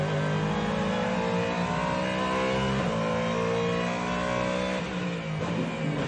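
Race cars battling for fourth and fifth place at the 24 Hours of Le Mans, their engines roaring loud and close as they accelerate, with pitch climbing through shifts and no talking.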